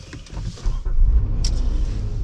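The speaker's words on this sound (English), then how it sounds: "let's drive the 2014 Kia Sorento" A 2014 Kia Sorento drives along, with a low engine rumble and road noise rising as it picks up speed, steady and close from inside the cabin.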